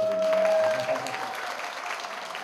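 Guests at a first-birthday party break into applause, a dense wash of clapping that starts full and eases slightly, with a held tone and a voice briefly under it.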